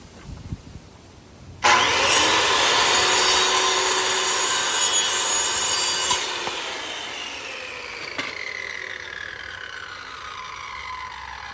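Power saw cutting PVC trim outdoors, a loud whining burst of about four seconds that stops abruptly, then a fading rundown and ambient noise, with no talking.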